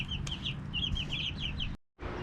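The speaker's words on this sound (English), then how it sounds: "these little chicks eat a lot" Little chicks cluck and peep softly in a rapid chattering string over a low steady hum, broken by a brief silent gap.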